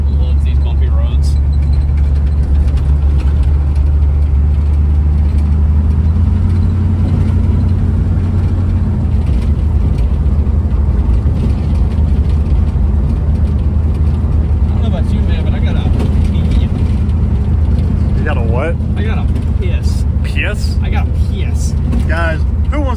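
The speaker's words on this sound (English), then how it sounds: "my car that has no body bushing, it is primarily rusted out and loves these bumpy roads" A rusted-out Chevy Nova with no body bushings drives over bumpy roads, its steady low engine and road rumble filling the cabin throughout while people talk over it.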